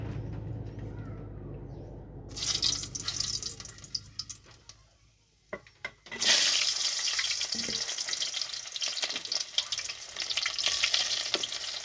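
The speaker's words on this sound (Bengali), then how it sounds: "তেলের মধ্যে যখন পেঁয়াজ দেবো তখন যদি ভয় লাগে, যদি তেল যদি ছিটকে পড়ে যায়" Onions drop into hot oil and hiss, beginning with a low rumble, then a quiet lull with a few clicks, and finishing in a loud, close, sustained sizzle.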